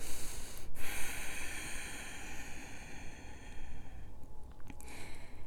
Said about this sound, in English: when you breathe in, you feel your belly expand, and then you exhale, a long, deep exhale